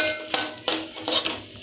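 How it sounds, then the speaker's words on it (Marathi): Grated coconut being stirred and roasted in a pan for modak filling, with scraping spoon strokes against the pan at a steady rhythm over a faint sizzle, close and fairly quiet. "आता आपण खोबरं टाकूया। चांगलं परतून घ्यायचं आहे।"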